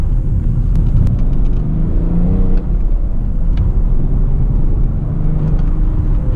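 Inside a BMW E61 530d estate with a diesel engine and manual gearbox, a loud, steady low engine rumble and road noise fill the cabin while driving, with slight revving shifts around a downshift.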